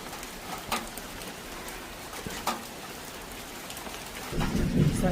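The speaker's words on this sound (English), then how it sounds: "And the rain is coming down harder." Heavy rain hissing steadily on a farm in Jamaica while several sharp thunder cracks and rumbles break through, growing louder and rougher toward the end.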